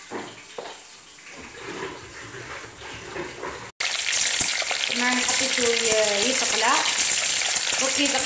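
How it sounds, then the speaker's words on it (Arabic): Hot peppers frying in a pan, starting as a moderate sizzle that jumps to a loud, dense crackle after a brief cut, with squeaky scraping and sliding noises over the spitting oil. "انا درك نروح نقلي الفلفل تاعي ونرجع لكم"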